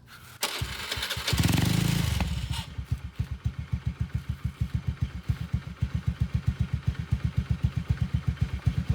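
A Honda Scoopy scooter engine starts with a loud burst of cranking and revving, then settles into a steady, rhythmic idle with even, close-up pulses running to the end.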